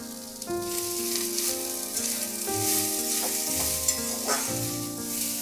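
Vegetables with green chili being stir-fried on high heat for veg chowmein, a busy sizzle mixed with clanking utensil strokes and bright tonal ringing, close and fairly loud.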